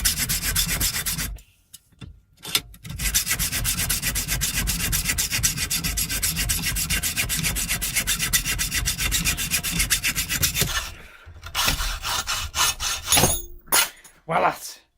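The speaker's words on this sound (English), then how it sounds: "So I'm going to use my hacksaw." A hacksaw cuts metal for a homemade wood burner heater, worked indoors. Close, loud rhythmic rasping strokes run steadily for about eight seconds, then stop, followed by a few clunks and scrapes.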